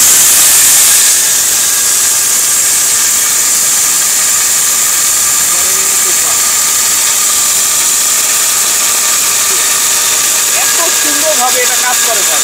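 A Rico Tufan blender grinds dry lentils into powder with a loud, steady, high-pitched whirring roar that runs unbroken throughout, close by, with a voice speaking over it.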